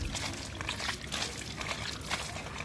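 Water splashes and trickles steadily as it rinses a colorsafe cleaner off an engine, a close, continuous spray with uneven gushes and spatters.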